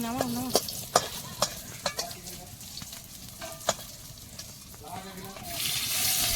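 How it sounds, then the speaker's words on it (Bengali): Bori lentil dumplings frying lightly in oil, a moderate sizzle under several sharp utensil clicks and taps, with a brief vocal sound near the start and a rising hiss at the end. "বড়িটা একদম হালকা করে ভেজে নেবো"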